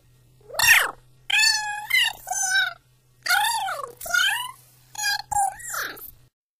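Cats meow repeatedly in a series of close, loud, drawn-out calls with short gaps between them, with a faint steady hum underneath.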